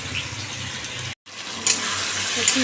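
Water poured from a tap or jug into a cooking pot for an egg curry, a steady gushing flow broken by a brief silent gap, then resuming slightly louder.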